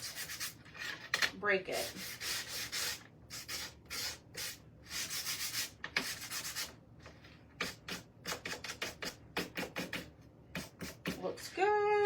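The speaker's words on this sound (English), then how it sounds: "I'm going to take my beaded frame, and I'm just going to kind of sand the edges a little bit" The edges of a beaded frame are sanded by hand in repeated short, rough rasping strokes, close and fairly loud, with a few words spoken briefly between strokes.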